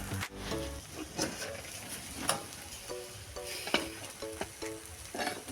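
A vegetable snack sizzles in a hot frying pan, with a steady crackle broken by occasional scraping and tapping of a utensil against the pan, close and alone.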